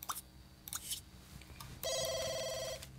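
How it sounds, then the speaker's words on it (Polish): A telephone in The Sims 2 rings with a bright electronic trill after a few short game clicks and chimes, loud and close, with no talk over it. "No odbierz ten telefon, tak nie masz co robić."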